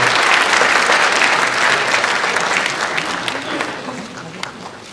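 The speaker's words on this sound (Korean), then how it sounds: "지금까지 여러분 뜨겁게 박수를 드리십시오." A lecture audience in Gangneung breaks into sustained, loud applause, dense clapping from a large crowd that gradually thins and fades toward the end.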